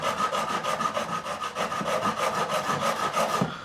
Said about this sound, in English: I'm not as much beveling with this file as I am just getting close to the edge.